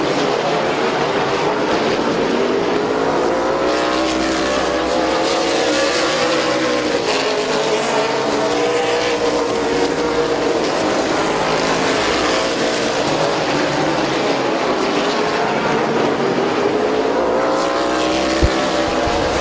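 Late model stock cars racing at Midvale Speedway, a loud, continuous roar of several engines rising and falling in pitch as the pack sweeps around the oval, close and steady.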